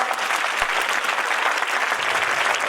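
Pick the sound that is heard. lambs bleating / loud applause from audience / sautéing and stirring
loud applause from audience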